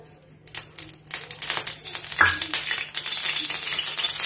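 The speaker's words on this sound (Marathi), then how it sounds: "आता यात पाववाटी तेल घालायचा" Oil poured into a hot kadhai sets off a rising sizzle, bright crackling frying that builds and then holds steady, close by, with a brief clink of utensil midway.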